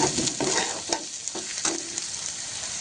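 Ground green chilies, coarsely crushed, hit hot oil in a pan and sizzle loudly, a steady close frying hiss broken by a few stirring scrapes, with no voices.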